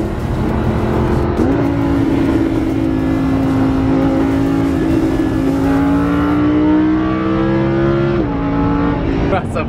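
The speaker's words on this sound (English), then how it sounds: "so we're gonna try to drag race him." A Toyota Prius accelerates hard in a street drag race, its engine a steady droning tone that climbs in pitch and drops at gear changes, under constant road and wind roar.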